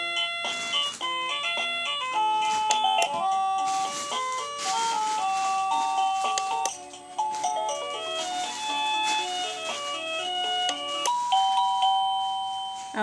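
A Liztek wireless doorbell plays a long chime melody, bright bell-like notes stepping up and down in a continuous tune, loud and close with no talking over it.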